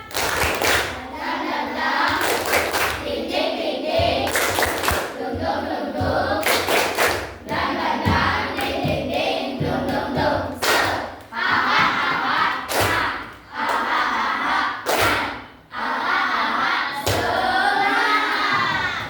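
Classroom of sixth-grade children doing a rhythmic spirit clap routine, loud bursts of unison clapping in patterned groups with shouted chanting and thumps, steady energetic rhythm throughout.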